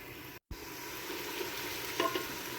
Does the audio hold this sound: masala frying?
yes